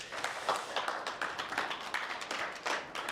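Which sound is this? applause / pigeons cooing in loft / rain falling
applause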